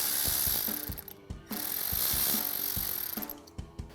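A ratchet loosening bolts on a V8 2014-2018 Silverado 1500 ignition coil, with a rapid clicking pawl in a steady rhythm, close and loud, broken by brief pauses between strokes.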